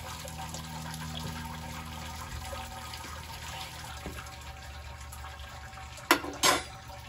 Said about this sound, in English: all of the wort for the goodness from the grains is draining into the pot